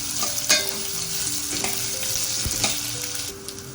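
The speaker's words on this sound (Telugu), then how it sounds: "జీలకర్ర వేసుకున్నాం తర్వాత ధనియాల వేసుకున్నాం తర్వాత అల్లం ఈ మూడు కొంచెం ఫ్రై అయినాక" Cumin seeds, coriander seeds and ginger fry in a hot pan, giving a dense, continuous sizzle with a few stirring scrapes and light clicks, close by and with no talking.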